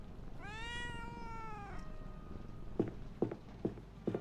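A game cat lets out one long, rising-and-falling meow close up, followed by several soft, evenly spaced footstep thuds.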